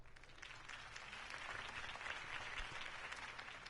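A crowd applauding after a campaign speech for Harvey Dent, dense steady clapping with no breaks, filling the space from start to finish with no voices rising above it.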